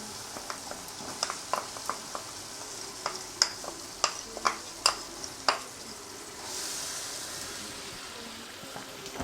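A spoon stirs jaggery in a pan while making peanut chikki. Sharp scraping clicks come in an uneven series over a soft, steady sizzle, with a brief rise in hiss near the end.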